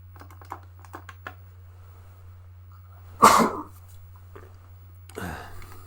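A single sharp sneeze bursts out after some light keyboard typing, followed by a brief exhale or sniff; a low steady hum runs underneath.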